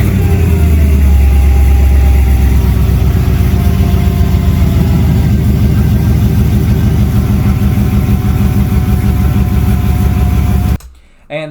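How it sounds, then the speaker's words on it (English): An LS-swapped Camaro with a budget junkyard motor idles through a Boa straight-pipe exhaust, a loud, close, steady low burble with an even pulsing beat that runs for about eleven seconds before cutting off. "But all in all, the exhaust sounds good."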